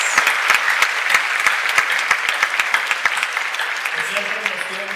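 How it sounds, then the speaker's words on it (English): Audience applause for Paloma at a regional housing forum, a steady wash of many hands clapping with sharp individual claps standing out, fairly close and filling the whole stretch, with a voice starting to speak near the end. "A round of applause for Paloma,"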